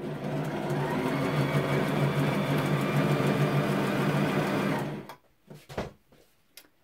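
A sewing machine runs steadily for about five seconds, stitching piping with a zipper foot on a Jacqueline top, then stops, followed by a few faint handling clicks.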